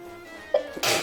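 A single sharp sneeze bursts out during a tabletop session of the Arkham Horror card game, a quick catch followed by a loud, breathy release at close range.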